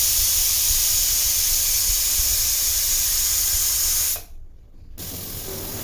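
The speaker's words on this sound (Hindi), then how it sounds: "कुकर में सीटी आ गई है" A loud, steady hiss of escaping steam from a pressure cooker whistle while cooking dal, running continuously, cutting off abruptly near the end, then resuming more quietly.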